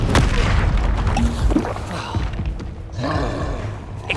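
Confringo blasting spells explode in rapid succession during Hogwarts Legacy combat, loud booms and thuds layered with whooshing spell effects, roars and chaotic battle noise, with a voice briefly calling out amid the din.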